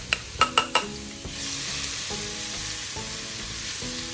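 Minced garlic frying in hot oil in a wok, opening with a few sharp clinks of a utensil, then a steady close sizzle with light stirring scrapes and a background tone.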